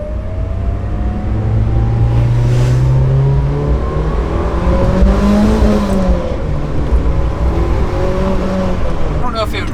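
Mitsubishi Evo 8 with a stock air intake revving as the engine accelerates, a droning rise and fall of engine pitch heard up close from inside the car, with a voice speaking over it.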